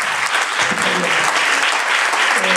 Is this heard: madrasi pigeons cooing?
no